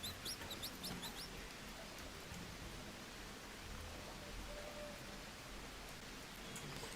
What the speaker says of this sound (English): So when it's raining, by the way,